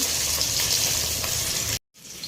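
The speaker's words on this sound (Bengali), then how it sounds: "দেখো মাছটা দিয়ে দিয়েছি তেলে" Fish frying in hot oil in a small kadai, a loud, dense, continuous sizzle close by that cuts off suddenly near the end and returns more faintly.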